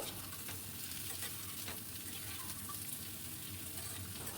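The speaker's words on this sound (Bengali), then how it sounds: "আবারও খুব ভালো করে নাড়িয়ে নেব" Steady sizzling of papaya pieces frying in a wok, with occasional scraping strokes from stirring, close and continuous with no talking.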